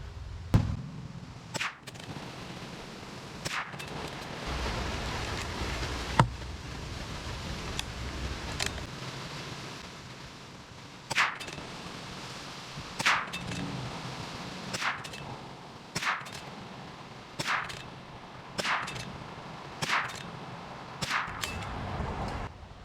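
Sharp, fairly faint cracks from a .22LR CZ457 or Tikka T1X rifle firing Federal Champion 36-grain copper-plated hollow-point rounds ring out one by one at irregular intervals of a second or two, about fifteen shots over a steady background hiss.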